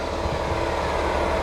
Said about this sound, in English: Go ahead and start the vehicle till it idles.